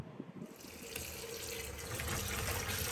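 Tap water runs into a sink as fresh green beans are washed, a close, steady gush that swells slightly after a brief quieter start, with no voices.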